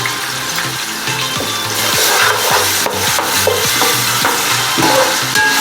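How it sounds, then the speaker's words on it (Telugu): Ginger garlic paste frying in hot oil in a pan for chicken pulao: a loud, steady sizzle with repeated rhythmic scraping and stirring strokes of a spoon against the pan. "అల్లం వెల్లుల్లి పేస్ట్ వేగాలి"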